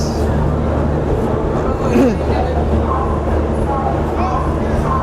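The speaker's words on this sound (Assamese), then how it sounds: "কামাখ্যা জংচনৰ পৰা ওলাইছোঁ বৰ্তমান আমাৰ ট্ৰেইন এৰিছে" A train at Kamakhya Junction station, with a steady loud low rumble of rail noise throughout and a faint squeal and some background voices.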